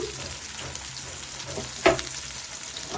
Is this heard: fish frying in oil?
yes